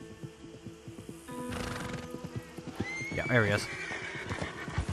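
In the Red Dead Redemption 2 video game, a horse approaches with rhythmic clip-clop hooves and then gives a loud, close whinny partway through, while someone talks over the hoofbeats.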